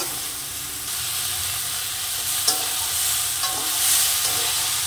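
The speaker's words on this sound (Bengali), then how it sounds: "পরিমাণ মতো হলুদ, শাপলাটাকে একটু কষে নেব।" Water lily stems stir-fry with turmeric in a hot pan, giving a loud, continuous hissing sizzle with occasional soft scrapes of the spatula.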